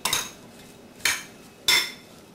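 Three sharp clinks of a utensil against a bowl while marinade with turkey, salt and Chinese cooking wine is mixed, each scrape fading quickly, close and fairly quiet with no talking.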